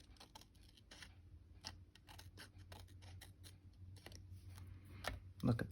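Scissors trimming fabric for a multi-pocket sewing project, quiet close snips in an irregular run, with faint talk in the background.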